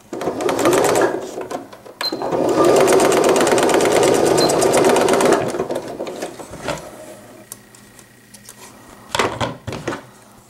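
A sewing machine stitches elastic for infant slippers in bursts: a short run, a pause, then a longer steady whir of needle strokes for a few seconds, followed by quieter clicks and handling and a final brief run.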